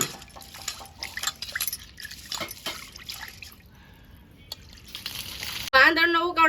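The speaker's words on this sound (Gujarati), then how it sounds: "તો હવે છે ને દાળને ધોઈ નાખીએ." Lentils (dal) being washed in water for a village-style dal dhokli: irregular splashing, dripping and trickling close by, ending in a short louder burst of sound.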